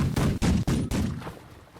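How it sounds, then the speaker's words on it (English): Ship cannons firing in Last Leviathan, four loud booming shots in quick uneven succession, each with a short rumble, the last one trailing off into a fading echo. "So the quality of these cannons are not particularly good, and I don't think they fire that far."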